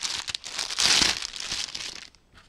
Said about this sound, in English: Let's take it out of the plastic.